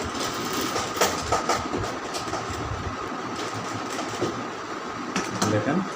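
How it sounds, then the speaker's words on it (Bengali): An electric sewing machine stitches fabric along a chalk line, running in a fast, rhythmic mechanical chatter with brief surges and pauses, close and fairly loud. "চকের দাগে সেলাই করবো।"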